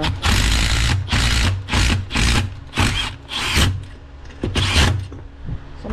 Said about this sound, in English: I just drive them right on in.